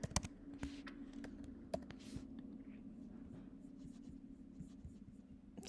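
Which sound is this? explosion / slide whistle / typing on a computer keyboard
typing on a computer keyboard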